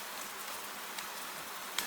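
Gentle rain falls at night as a steady, soft, even hiss with no voices.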